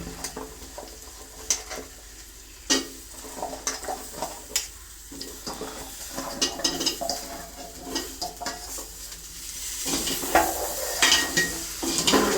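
Radish and potato pieces stirred in a cooking pot for a winter-vegetable khichuri, with a spoon scraping and knocking against the metal in an irregular rhythm over a faint simmering hiss.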